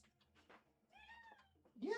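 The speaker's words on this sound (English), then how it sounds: "Do you guys hear my cat?" A pet cat meows in a drawn-out, rising and falling cry close by, with soft murmuring and faint room noise around it and a louder burst at the end.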